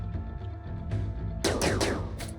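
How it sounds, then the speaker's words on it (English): Gunshots in the RimWorld video game: a quick run of several sharp, loud shots in the second half, set against a low, steady background hum, with no talk. "We got more gunshots to the torso."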